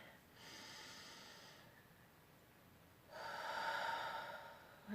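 Two deep breaths are drawn in through the nose during a breathing practice, each a soft, airy rush lasting over a second, the second one longer and louder, close and alone in a quiet room.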